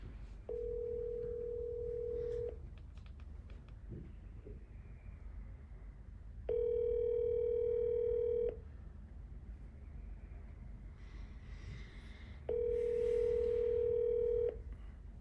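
A phone line rings back three times, each long electronic tone separated by a few seconds of quiet line hiss.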